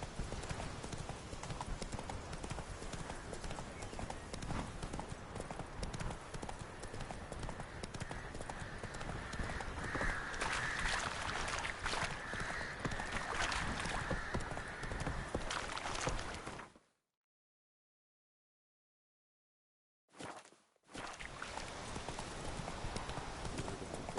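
Horse hooves clip-clop steadily in The Witcher 3, a continuous close trotting rhythm that runs for most of the stretch, breaks off into silence, then resumes briefly near the end.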